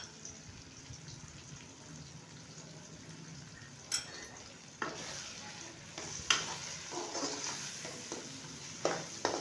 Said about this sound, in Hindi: चम्मच को थोड़ी देर बाद हिलाते रहा करें ताकि आपका मिसाला जल ना जाए